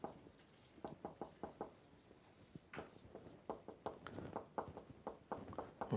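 Chalk writing on a blackboard during a calculus lecture, with short bursts of scratchy strokes and taps in quick rhythmic clusters, near and fairly quiet, with no talking.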